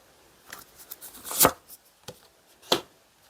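Tarot cards are shuffled and drawn by hand: a handful of soft papery flicks and slaps, close and quiet, with one sharper snap in the middle and another near the end.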